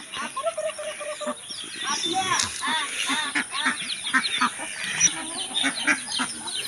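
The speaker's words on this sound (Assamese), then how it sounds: "হাঁহ দানা খাই আছে পুৰা" A flock of ducks feeding on scattered grain, with overlapping honks and quacks close by and rustling pecking sounds, people talking faintly in the background.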